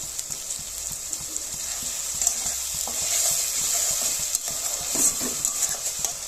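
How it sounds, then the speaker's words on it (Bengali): Spice paste being stir-fried in a pan with a little water for raw banana kofta curry, a steady close sizzle with repeated scraping and stirring clicks throughout. "এবার এগুলো আমি একসঙ্গে একটু কষিয়ে নেব। একদম অল্প পরিমাণে একটু জল দিয়ে দেবো মশলাটা কষার জন্য।"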